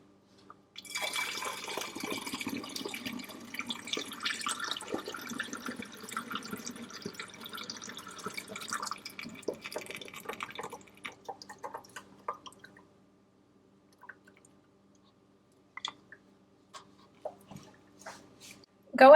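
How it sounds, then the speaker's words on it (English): Homemade water kefir is poured through a strainer into a funnel, a close trickling stream of liquid for about ten seconds that thins into scattered drips and small clinks before stopping. "And I'm gonna go ahead and pour this into the funnel."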